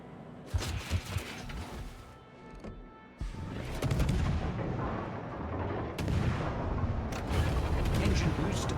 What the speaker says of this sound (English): firing your torpedoes and then your guns afterwards